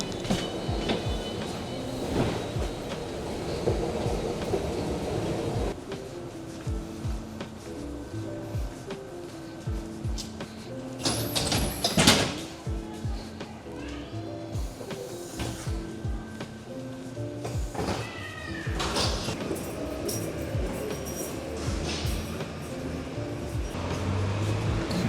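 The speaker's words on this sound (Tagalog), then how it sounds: "This is an Orange Line train to Richmond. The doors are closing." An Orange Line metro train stands at Union City station as its doors close, a continuous rumbling rail hum with clunks and a sharp burst of door and brake noise partway through, steady and fairly loud with no talk.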